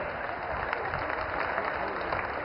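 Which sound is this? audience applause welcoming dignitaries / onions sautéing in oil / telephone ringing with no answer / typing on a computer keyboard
audience applause welcoming dignitaries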